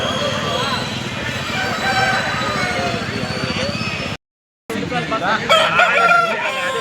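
Roosters crow loudly and close by at the Pileru rooster market, with drawn-out, strained calls rising over steady crowd chatter and someone talking. The sound cuts out briefly midway.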